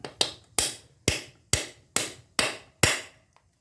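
Seven sharp hammer taps in a steady rhythm, close and crisp, each ringing briefly before the next strike, driving a water pump seal into place on a Honda CRF250L.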